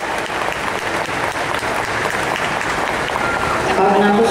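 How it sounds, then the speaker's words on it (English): An outdoor crowd applauds steadily at an off-road style massed dog obedience demonstration, dense clapping holding level for a few seconds before a voice comes in at the end. "Let's give them a big round of applause."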